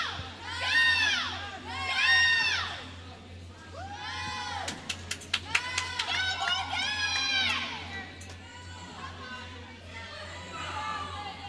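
Crowd at a high school swim meet cheers and shouts in rising waves of high-pitched voices, with sharp claps and whistles in the middle, echoing as in an indoor pool.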